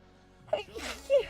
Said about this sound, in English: I'm going to sneeze, hold on.